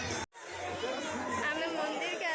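Dense crowd chatter at the Baidyanath Shiva temple on a Shravan Monday, many overlapping voices close around, continuous and busy apart from one momentary dropout near the start.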